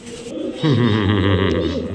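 A female pigeon coos close by, a low throaty warble that swells and continues steadily.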